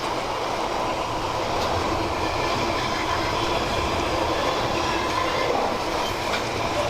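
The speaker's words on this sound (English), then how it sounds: "There's a down freight liner." A Freightliner freight train on a down run rolls past Kenilworth Junction, a long passing loop on the Leamington Spa to Coventry line in Warwickshire woods, with a loud, steady roar of wheels and rail noise close by and no voices.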